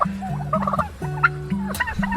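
Turkeys gobble in a yard of birds: several warbling gobbles in quick succession, close and clear, with no voices.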